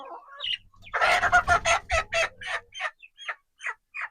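Backyard flock chickens cluck nearby in a run of short, rhythmic calls, loud and busy at first, then thinning into sparser clucks.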